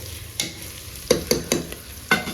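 Food frying in a pan over a high flame in a home kitchen, a steady hiss punctuated by sharp utensil clacks and scrapes from stirring, close and fairly loud, with no talking.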